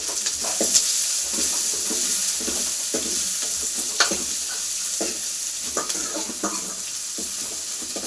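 Onions with cinnamon and cloves sizzling steadily in hot oil for potato kurma, with a spoon stirring and scraping the pan at intervals, close and continuous.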